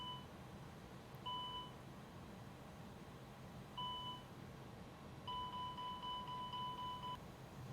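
Engine fire test warning in an A300-600 freighter cockpit in the X-Plane 11 flight simulator: a steady electronic tone sounds three times, two short beeps followed by a longer sustained one, over a constant low cockpit hum.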